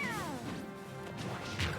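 Bayonetta lands a back aerial kill move in Super Smash Bros. for Wii U: falling electronic tones sweep down before a sharp smashing impact. A second crash-like burst follows near the end, all moderately quiet.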